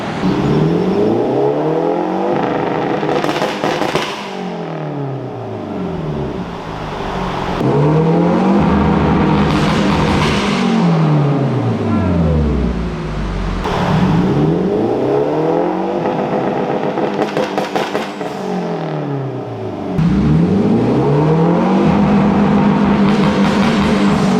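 A turbocharged Honda S2000 engine revs hard in repeated bursts, bouncing on a two-step launch limiter with popping crackles, loud and close, several cycles in a row.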